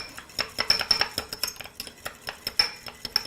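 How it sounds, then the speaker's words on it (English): A fork whisks spices in a small ramekin, giving quick, rhythmic clinks and taps against the dish, close and clear with no talking. "get all of this to incorporate. I like to use a fork"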